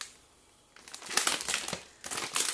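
Rummaging in a plastic shopping bag, with loud, close crinkling and rustling that starts after a quiet moment and comes in bursts, with a short pause near the end.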